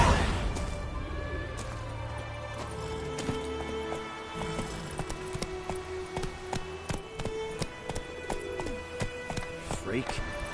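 Galloping hooves of Roach, Geralt's horse in The Witcher 3, in a steady clip-clop rhythm with game music and ambient sound, while someone talks over it.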